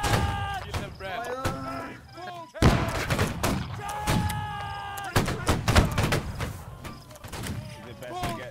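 Musket line volleys in Holdfast: Nations At War crack out in loud overlapping bursts, one sharp barrage striking near the middle. Voices call out over the shots throughout.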